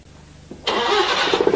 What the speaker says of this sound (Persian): موتور روشن بکن.